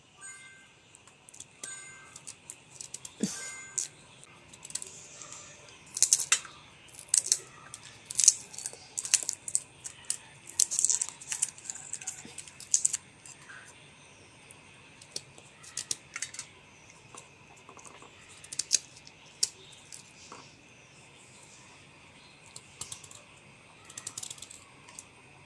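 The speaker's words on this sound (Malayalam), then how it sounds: "അതിൻ്റെ തൊലിയെല്ലാം ചെത്തിക്കളഞ്ഞ് തോരന് വേണ്ടി അരിഞ്ഞെടുക്കട്ടെ" A knife peels and chops jackfruit seeds for a Kerala thoran, giving sparse, faint clicks and taps in irregular bursts with quiet gaps between them.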